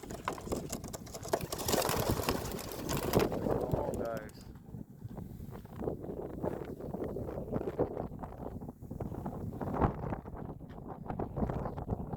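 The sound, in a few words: strong wind blowing during pigeon training toss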